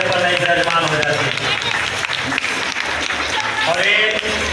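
An audience claps continuously at an Chero tribal community cultural and education gathering, a dense, loud wash of applause with a person speaking over it throughout.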